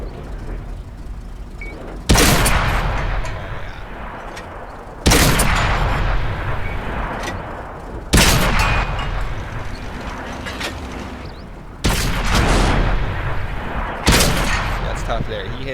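Five heavy tank cannon blasts and shell impacts in the World of Tanks game with an AMX Chaffee, loud and sharp, spaced every few seconds, each followed by a long roaring decay, with faint talk underneath.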